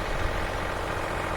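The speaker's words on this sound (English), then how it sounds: "that's the tractor warming up" A compact tractor's engine idles while warming up on a cold, snowy day, a steady close rumble with a faint rhythmic chug. No voices are heard.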